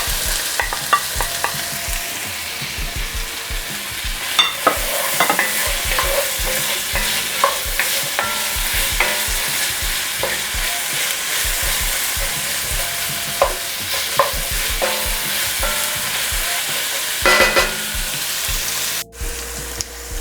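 Chopped celery and carrots sizzle steadily in a pot of oil for a curry lentil soup, with frequent scraping stirs of a spoon throughout, close and continuous.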